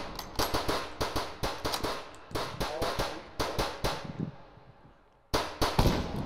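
Bolt-action rifle fire and action cycling in a video game, a rapid series of sharp cracks and clacks with a steady rhythm, a brief quiet gap, then more shots at the end.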